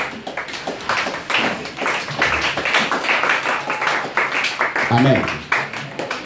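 A congregation claps in rhythm during a lively French-language Christian worship service in church, steady hand claps filling the room with voices calling out over them.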